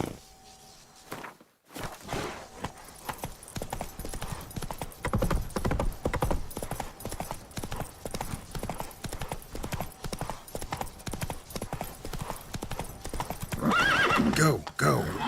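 Roach the horse galloping in The Witcher 3: Blood and Wine, rapid rhythmic hoofbeats pounding steadily after a brief quiet start, with a whinny near the end and voices heard alongside.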